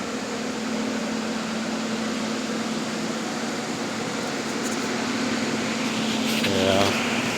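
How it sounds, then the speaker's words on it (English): Several fans run steadily in a flood-damaged kitchen, a loud, even whirring drone with a low hum that lasts throughout, with a brief clatter near the end. "And fans going."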